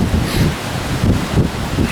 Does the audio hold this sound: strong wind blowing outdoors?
yes